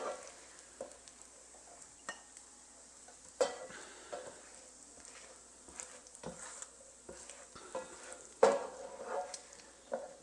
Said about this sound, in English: we just want to take this bacon out of the fry pan and let it cool down